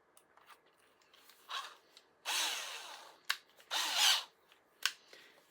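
Power drill spinning an arrow insert clamped in its chuck, heard in several short whirring bursts of varying length separated by quiet pauses, close and moderately loud.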